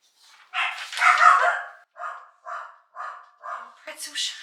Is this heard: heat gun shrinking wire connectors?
no